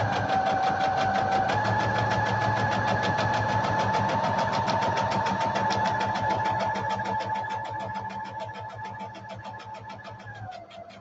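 A sewing machine runs at speed with a steady, rapid mechanical rattle of stitching, loud and close throughout, easing off and slowing slightly toward the end; no one speaks.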